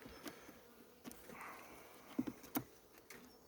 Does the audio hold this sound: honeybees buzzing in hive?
yes